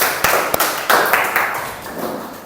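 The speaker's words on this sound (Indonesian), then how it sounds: "tepuk tangan buat semuanya" Applause in a classroom, a handful of people clapping in loose, uneven bursts with sharp individual claps, fairly close and fading toward the end.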